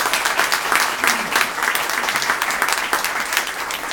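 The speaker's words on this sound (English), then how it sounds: "How about a round of applause?" A crowd at an organ donor awareness day event breaks into applause, a lively, sustained clatter of many clapping hands with a slightly pulsing rhythm, fairly close and steady throughout.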